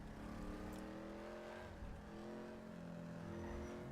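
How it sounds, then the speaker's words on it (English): Ford Mustang GT350R engine in GTA 5 roaring continuously at high revs, a loud sustained growl with shifting tones and a faint tire squeal near the start. "Listen to that engine roar"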